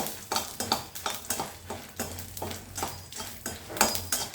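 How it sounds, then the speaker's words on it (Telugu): A torn bay leaf and chillies fry in a pan for chicken fry while a spoon stirs, making rhythmic scraping clinks over a light sizzle, close and without speech. "ఒక బిర్యానీ ఆకు మనం తుంచేసి ముక్కల కింద ఈ మిరపకాయల్లో వేసుకుందాం, వేగిపోతాయి"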